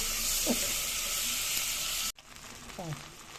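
Rice sautéed in melted ghee in a pot gives a soft, steady sizzle with a couple of brief stirring scrapes, close and fairly quiet, cutting to a quieter stretch partway through.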